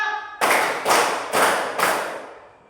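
Four sharp group claps in a steady rhythm from a class led by a teacher, each a loud broadband burst with a short decay, following a brief tonal sound at the start.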